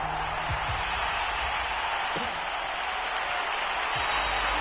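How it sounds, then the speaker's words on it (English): A stadium crowd in a football video game cheers before an NFL matchup with the New Orleans Saints, a steady, broad roar of applause held at even loudness from start to finish. "This crowd is ready as their guys get set to match up with the New Orleans Saints."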